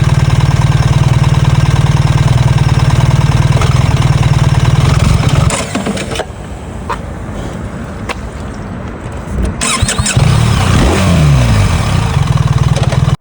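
A BMW R1300GS Adventure motorcycle engine runs loud and steady, then abruptly drops out mid-acceleration as it stalls, leaving a quieter stretch of rumble and mechanical noise before the engine note returns near the end.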